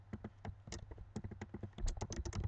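Rapid keystrokes on a computer keyboard while VBA code is entered, an uneven run of close, crisp clicks and taps with no speech.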